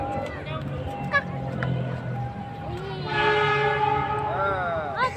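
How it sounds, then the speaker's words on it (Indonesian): A train rolls past in the late afternoon with a steady rumble, its horn sounding in a long, loud harmonic blast in the second half, while voices of people watching talk nearby. "Ini ada kereta lagi nih."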